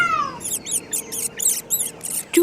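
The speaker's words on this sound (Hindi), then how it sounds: "तभी अचानक एक बिल्ली उसके पीछे पड़ जाती है।" A cartoon cat chasing a mouse, a quick descending whistle followed by a rapid series of squeaky, bouncy chase effects in a steady rhythm, close and bright, ending on a short squeak.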